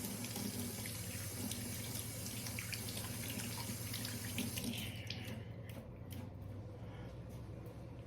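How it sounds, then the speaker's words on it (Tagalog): Hands are rinsed under a running kitchen tap while cooking a sweet potato and mung bean dish, a steady close rush of water that thins out partway, with soft speech underneath. "Naghihinaw na lang po ako ng kamay."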